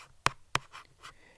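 Handwriting during a chemistry walkthrough, with two sharp pen taps followed by softer scratchy strokes, close and quiet, with no voices.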